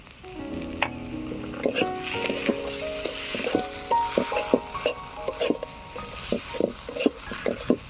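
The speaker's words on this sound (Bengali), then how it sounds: "এবারে ভালো করে নেড়ে ছেড়ে আলুর পুরটা বানিয়ে নেব।" A spiced potato filling for singara is stirred in a frying pan over a steady background sizzle, with frequent close scraping and tapping strokes of the spoon against the pan.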